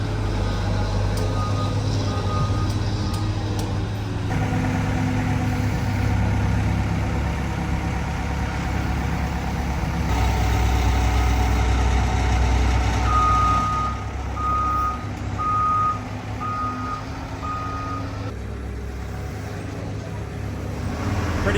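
A giant forklift unloads a car, its large diesel engine rumbling steadily while a reversing alarm sounds in regular repeated beeps, with heavy machinery noise filling the background throughout.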